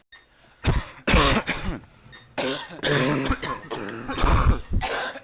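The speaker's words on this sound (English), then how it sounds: "I took every single cough and clearing of my throat before doing a vocal take." Several rough coughs and throat clearings come in bursts, close and loud, separated by short quiet gaps.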